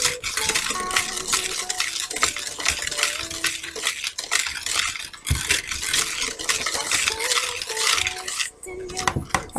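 Blueberry muffin batter with flour and blueberries being stirred in a bowl, a steady close scraping and swishing that runs nearly without pause, fairly loud, with little talk over it.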